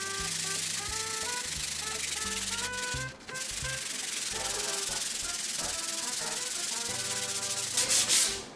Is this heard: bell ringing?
no